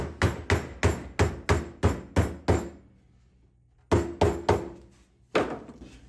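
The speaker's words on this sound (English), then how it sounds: "Now I just take my flashing hammer." Sharp, evenly spaced strikes of a flashing hammer bending copper for a collector head, eight in a quick row, a pause, then three more and a final blow, close and loud.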